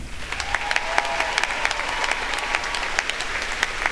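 A graduation audience applauds continuously, dense clapping from many hands filling a large hall at steady loudness with no pauses.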